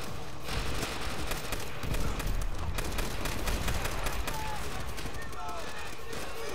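Rapid trench gun blasts and surrounding gunfire in Call of Duty: World at War, a dense, continuous crackle of shots under constant game battle noise, with a voice talking over it.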